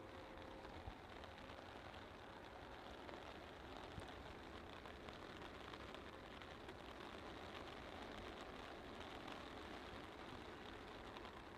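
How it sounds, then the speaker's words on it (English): Steady rain falls across an airfield at Manchester, a continuous soft hiss of drops on surfaces with no voices, even and unbroken throughout. "I'd rather it stop raining."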